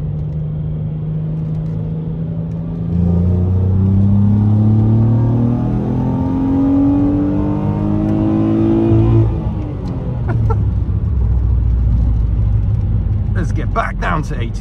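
A Ford Mondeo ST220 engine pulls through the gears on the city streets of Sofia, Bulgaria, a loud, close, rising drone with a gear change midway, under steady talk from the car's occupants.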